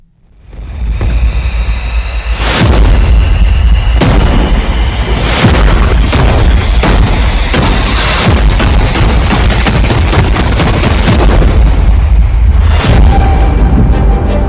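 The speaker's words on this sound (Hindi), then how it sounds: "इजरायल की राजधानी तेल अवीव में फटा बम" Loud, continuous booming rumble of bomb blasts in Tel Aviv, Israel, with sharp bursts standing out around two, five and thirteen seconds against a dense roaring background, close and overpowering with no voices.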